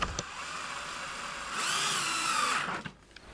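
A power drill whirs steadily while bolts are driven into a fishfinder mount on a West Marine kayak, then rises in pitch and strain for about a second before stopping, with short clicks at either end.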